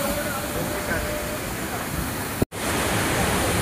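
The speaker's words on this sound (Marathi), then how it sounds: "हा छोटा धबधबा होता मित्रांनो." A small waterfall at Thoseghar roars as a dense, steady rush of falling water, loud and close, with a brief dropout midway.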